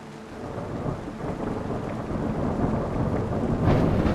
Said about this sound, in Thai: เสียงฝนยังคงตกหนัก